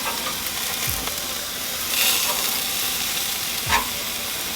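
Ribeye steaks sizzle loudly and steadily on a Monument gas grill after being flipped, with a continuous hiss and occasional clinks of a utensil against the grate, and no talking.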